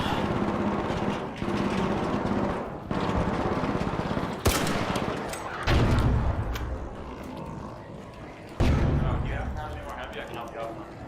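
Video game gunfire in rapid bursts, heavy and close, broken by short pauses and mixed with game effects while someone talks over it.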